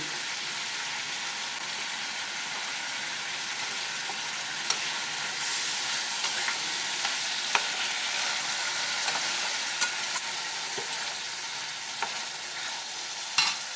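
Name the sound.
stir-frying spice paste with fried potatoes in a pan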